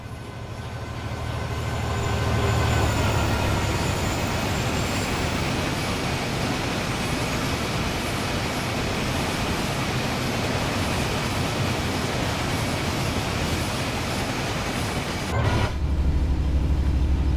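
A Class 66 freight locomotive hauling intermodal wagons on the East Coast Main Line at Grantham, in the Train Sim World 4 game, rumbles past close and loud as a long continuous roar with rail noise and a sudden shift near the end.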